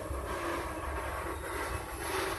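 Vermont Railway train rolling along the tracks behind a farm near a crossing by the North Bennington station, a steady loud rumble and rail noise with no distinct breaks, no voices.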